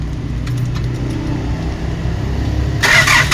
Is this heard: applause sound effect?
no